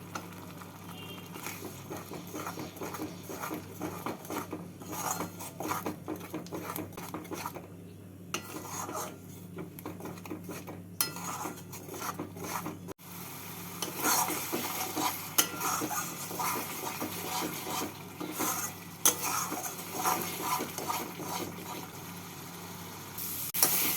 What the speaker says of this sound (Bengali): এবার মশলাটাকে কষিয়ে নেবো